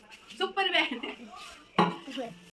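Aluminium pots being scrubbed with black soap, short clattering scrapes of metal heard close up between bits of a woman's speech.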